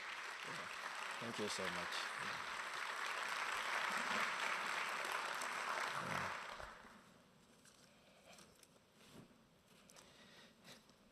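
Audience applause welcoming a speaker to an evening environmental lecture: a dense, sustained clapping crowd for about six seconds, then fading out as a voice speaks a brief thanks over scattered claps.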